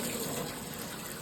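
Water gushes steadily from a tap as hands are washed outdoors on a mountain top, a close, continuous broadband rush that runs the whole moment without any talking.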